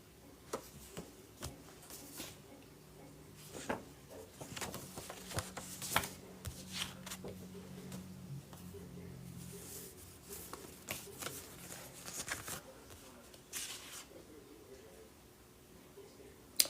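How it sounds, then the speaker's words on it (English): Soft, irregular riffling and tapping of tarot cards being shuffled close by, quiet and intermittent with small clicks throughout. "Now I'm going to shuffle this card again"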